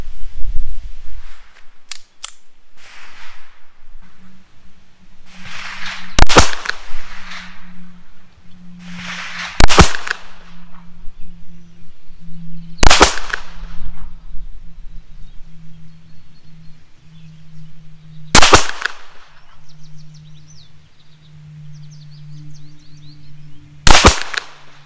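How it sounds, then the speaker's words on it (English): A High Standard Sport King pistol fires single rounds at an outdoor range, about six loud, sharp gunshots spaced several seconds apart, with faint handling and rustling sounds between them and no talking. "I'm going to fire a few rounds first just to get an idea of where I need the hold"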